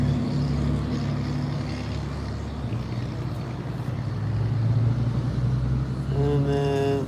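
A loud white truck drives past close by, a broad steady engine roar sustained throughout, with a rising tonal whine near the end as it pulls by.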